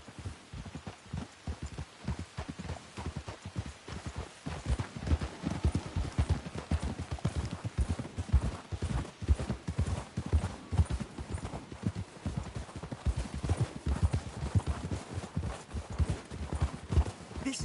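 Horses trot in the Red Dead Redemption video game, their hooves clip-clopping in a steady, busy rhythm that carries on throughout at a moderate, fairly close level, with no talk over it.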